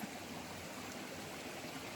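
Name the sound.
forest stream flowing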